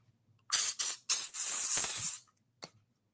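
Mosquito repellent spray hisses from an aerosol can indoors in three quick bursts, then one longer continuous spray and a final brief puff, close and loud.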